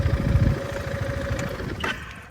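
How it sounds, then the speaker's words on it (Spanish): A Piaggio MP3 scooter engine idles with a low, steady hum, then cuts off near the end, leaving a brief fading tail and a faint click. "voy a parar la moto"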